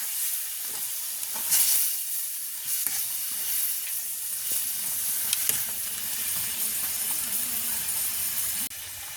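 Mushroom curry being stirred and turned in a pan, with steady sizzling and soft scraping that runs throughout, a couple of louder clinks near the start, no voices.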